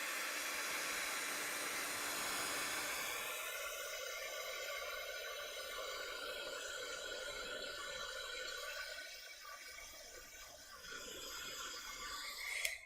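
A heat tool blows a steady, loud hissing airflow to dry wet paint on an art journal page, continuous for the whole stretch with a slight dip near the end.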